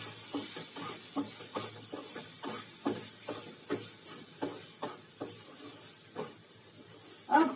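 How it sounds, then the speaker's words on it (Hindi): Eggplant frying in a pan over low heat with turmeric, a soft continuous sizzle broken by about a dozen spaced scraping stirs, with a louder scrape at the very end. "अब 1-2 मिनट तक इसको मैं कम सेक पर पकने दूंगी बैंगन को, ताकि बैंगन थोड़ा सा अच्छे से भून जाए।"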